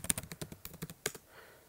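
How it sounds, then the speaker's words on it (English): Fingers type a password on a Mac computer keyboard, a quick run of about a dozen light, close key clicks that ends after under two seconds. "type in your password once more"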